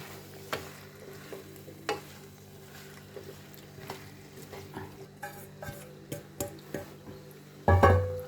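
Potatoes with taramira flower buds for a bhurji are stirred in a pan, with soft, scattered scrapes and taps over a faint hum, ending in a louder clatter.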